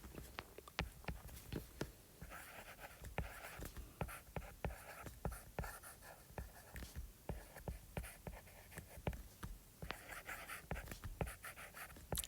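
Marker or chalk writing on a board, a steady run of quick close scratches and taps in uneven rhythm, continuing for several seconds with no talk.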